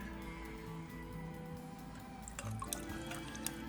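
Liquid pours and drips steadily while a cocktail is mixed, with a faint trickle like a small stream running into a glass, close and quiet with no talking.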